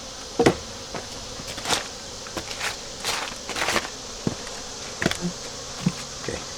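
Honeybees around a nuc hive, a low diffuse buzz under scattered knocks, taps and footsteps at close range, with sharper bumps now and then.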